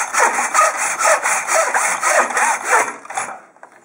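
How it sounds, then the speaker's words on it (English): A miter saw cuts through a piece of wood, a loud, close rasping pass with regular pulsing strokes that ends abruptly and fades into near silence. "place the work back into the miter saw,"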